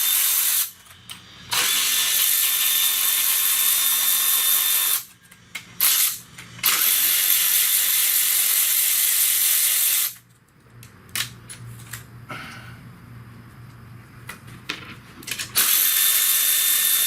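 Ratchet turning a 13 mm bolt on a 2008 Pontiac Torrent 3.4L engine during head gasket work: loud, close, sustained rapid clicking in several long runs separated by short pauses and quieter handling noises.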